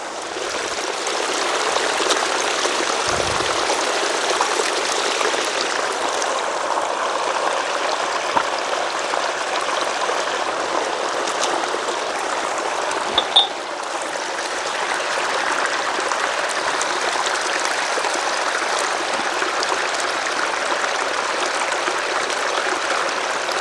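Clean, clear water flows steadily in a continuous loud rushing stream, close by and unbroken, with no voices over it.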